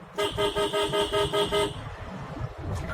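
A car horn honks in a quick run of about six even, loud toots while overtaking on a road in Punjab, then stops, leaving engine and road rumble underneath.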